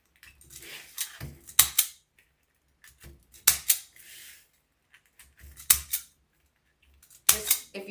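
A zip tie gun fastens materials for a large sunflower wreath, making four separate clusters of sharp ratcheting clicks and snaps spaced a couple of seconds apart, with quiet in between.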